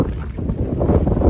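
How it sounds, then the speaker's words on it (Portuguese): Strong gusting wind of about 32 km/h buffets the microphone outdoors near farm plantations, a loud continuous low roar with uneven surges and no speech. "Olha o vento, tá muito forte"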